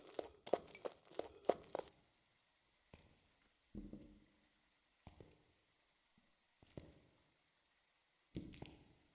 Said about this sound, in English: I just heard a footstep.